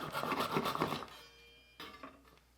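A hand saw cuts through the stripped end of a birch branch in a run of quick rasping strokes, then stops, followed by one more short stroke after a pause; close and fairly quiet.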